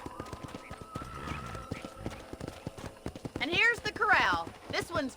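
Horses in a ranch corral in the video game Red Dead Redemption, with steady hoof clip-clops and a few whinnies near the end, all under ongoing talk.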